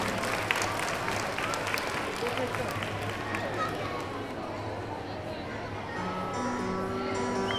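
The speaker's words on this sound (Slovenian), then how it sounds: "En aplavz za njih." Steady applause at a children's bazaar after young dancers perform, with children's voices and chatter mixed in and a low hum beneath; music starts up faintly near the end.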